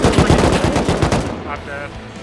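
AK rifle fire in the survival game Rust rattles off as a rapid, loud burst of automatic shots for over a second, then stops, leaving faint background sound and a brief final pop.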